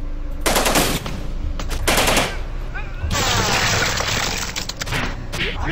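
Rapid automatic gunfire bursts out in long, dense volleys in the video game Nuclear Outrun, with shattering and cracking debris mixed in, loud and close.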